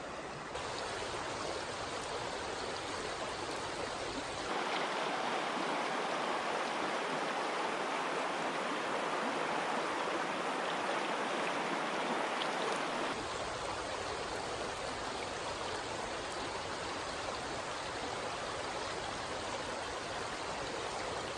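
A small spring-fed mountain stream in Franklin County, Pennsylvania, flows with a constant, close rushing and gurgling of water, steady throughout with no voices.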